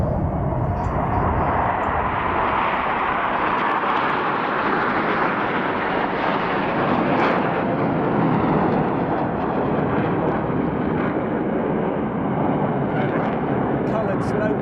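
Black Eagles aerobatic jets displaying at the Royal International Air Tattoo 2022 air show, a loud continuous roar of jet engines that persists steadily overhead throughout.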